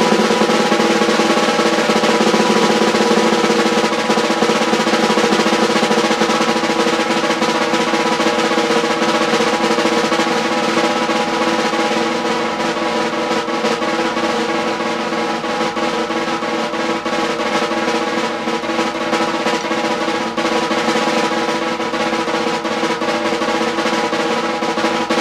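A drumstick bounces in a continuous buzzing roll on a drum head, a dense, even, sustained rattle that stays loud and steady with no pause or talking.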